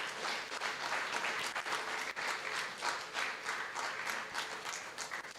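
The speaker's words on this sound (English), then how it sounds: "So, a special round of applause." Audience applause at a book release event in a hall, a continuous wash of many hands clapping with rhythmic surges, steady and moderately loud for several seconds.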